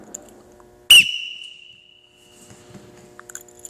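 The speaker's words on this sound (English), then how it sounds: "when I blow the whistle, Logan, give me 10 kick-outs" A coach's sharp whistle blast during a wrestling drill in a training room, one loud piercing shriek that trails off after about half a second, then quiet room sounds and faint movement.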